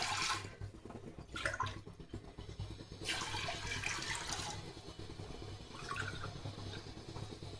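For sambar, water is poured into washed lentils in a cooking pot. It comes as faint splashing bursts of filling with short pauses between, and no one talks.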